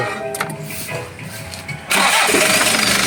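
Kia Pregio J2 3.0 engine after timing gear work cranks briefly, then fires on one click at about two seconds into a loud, steady running idle, close by.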